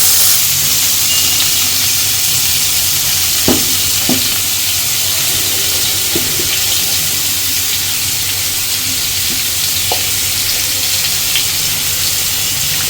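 Vegetables for a pumpkin and prawn curry fry in a pan with a steady, loud sizzle and hiss, broken by a few scattered light clinks and stirring taps.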